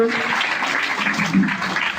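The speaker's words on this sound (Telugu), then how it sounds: "గట్టిగా ఒకసారి మళ్ళీ క్లాప్స్ కొట్టండి" Students at a high school Independence Day function clap loudly together, a continuous dense patter of many hands lasting the whole moment, with a voice speaking faintly underneath.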